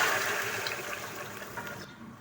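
Hot water pours into a pot of potatoes and lentil dumplings for a Bengali fish curry, a short, close, rushing splash that fades at the end.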